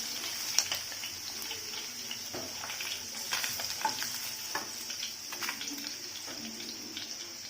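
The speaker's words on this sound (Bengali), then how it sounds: "আমি ব্রাউন করে মাছগুলোকে ভাজলাম বন্ধুরা।" Katla fish pieces frying brown in a pan give a fairly quiet, steady sizzle with scattered crackles and occasional stirring scrapes, heard close up with no one speaking.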